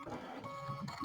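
An embroidery machine sounds a brief electronic alert after being started without embroidery mode selected, a short tonal beep heard up close in a quiet room.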